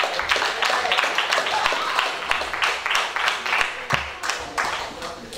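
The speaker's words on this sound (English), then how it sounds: "Don't y'all stop clapping because I'm on this mic now." An outdoor Juneteenth commemoration crowd claps and applauds steadily throughout, a moderate continuous patter with a voice speaking over it.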